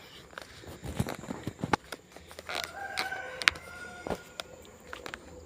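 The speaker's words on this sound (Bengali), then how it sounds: "এখানে মুরগ, কত সুন্দর সুন্দর মুরগ" Chickens at a bungalow in a hillside garden cluck and call in scattered bursts, with a rooster-like call near the middle, plus footsteps and rustling nearby and a little faint voice.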